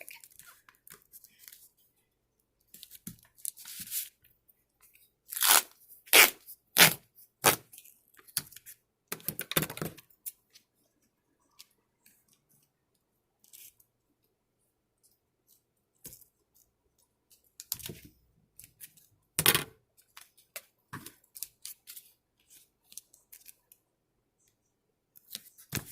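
Duct tape being laid down in slightly overlapping strips over a plastic bag to make a waterproof letterboxing bag, giving bursts of sharp crackling and tearing rips with quiet pauses between them, close and fairly loud.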